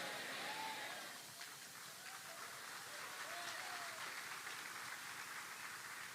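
Church congregation applauding during a sermon, a continuous wash of clapping that dips slightly then holds steady for several seconds, with faint voices and tones mixed underneath.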